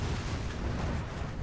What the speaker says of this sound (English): Throw an explosion pack.